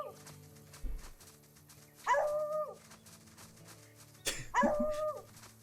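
Cartoonish dog barks and yips from the video game The Good Life, two short bursts around two and four and a half seconds, fairly close over a quiet game soundscape.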